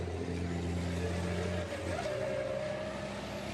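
A racing truck, number 1 MAN named Baloo, shifts up a gear during qualifying at Le Mans 2022, its steady low engine drone breaking off and rising again as revs build, loud and close with no talk.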